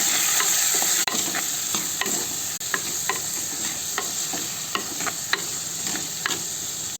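Onion, tomato and garlic paste sautéing in oil for an egg curry, a steady close sizzle broken by repeated scraping stir strokes of a spoon against the pan, with no talk.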